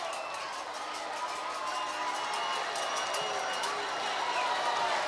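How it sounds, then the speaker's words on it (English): A large crowd cheers loudly and continuously at the Vols College World Series national championship parade on Gay Street, a dense, steady roar with a voice talking over it. "This crowd is going crazy."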